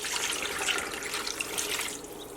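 Tap water runs steadily into a pressure cooker of fufu soup for about two seconds, a continuous splashing pour with no talk.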